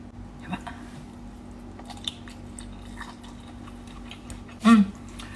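Someone chews jellyfish dressed in a Thai-style sauce: faint, scattered soft bites and light squishy chewing up close, ending in one louder crunchy bite near the end.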